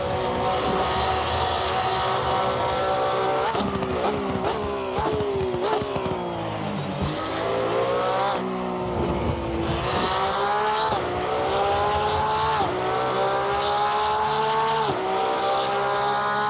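Porsche 992 GT3 R race car in the racing game Assetto Corsa Competizione at Suzuka, its engine screaming at high revs and shifting through gears with pitch climbs and drops, loud and steady throughout.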